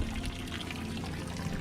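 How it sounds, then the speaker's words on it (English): A boat's water maker running while moored off a beach, giving a steady pouring, trickling flow of water with a constant low mechanical hum beneath it, close and continuous. "You can see the water maker, it makes water."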